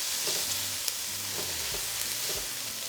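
Minced garlic fries in a hot pan with onion for steak fried rice, producing a continuous close hiss and sizzle with a few soft stirring knocks underneath.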